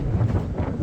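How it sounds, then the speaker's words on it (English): Strong wind buffets a campsite and whips a tarp beside an R50 Nissan Pathfinder 4x4 in a storm, a steady roaring gust with fabric flapping, close to the microphone and continuous with no voices. "the wind is just trying to take the tarp and it's going all over the place"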